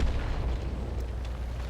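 A tank gun firing in a video game, likely the Luchs light tank, giving a deep booming blast that rolls out into a low rumble, loud and close.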